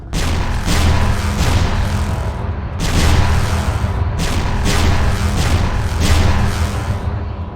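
A Warhammer 40k titan fires in Arma 3, a loud, sustained, booming barrage that rumbles continuously with several heavier pulses and no pause.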